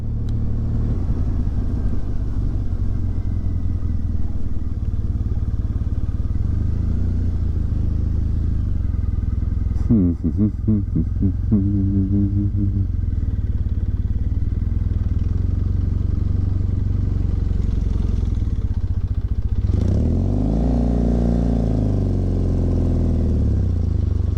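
A motorbike engine in a video game, a steady droning rumble sustained throughout, with brief rattling revs and clatter around the middle and again near the end, and no talking.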